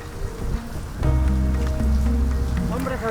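Rain patters steadily on surfaces outdoors in Aragón, with a denser, louder stretch partway through, while people talk nearby and tonal hums and other background sounds mix in.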